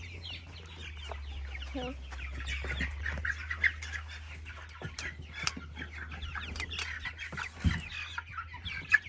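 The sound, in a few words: broiler chickens clucking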